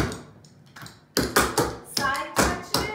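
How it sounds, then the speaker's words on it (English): Clogging shoes tapping on a hard floor in an intermediate clogging lesson, with crisp, loud double-step and toe-touch strikes in a quick, even rhythm after a brief quieter lead-in. "You're going to double step on your left foot."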